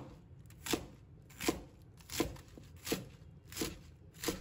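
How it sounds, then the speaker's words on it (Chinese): A knife chops a bunch of washed Chinese cabbage into short pieces on a board, landing six evenly spaced, crisp cuts at a steady unhurried pace, close up and alone with no talk. "把它切成小段"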